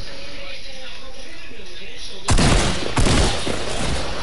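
Two sharp, loud shotgun blasts about a second apart ring out in a Fortnite match after a stretch of quieter game ambience, with faint player voices around them.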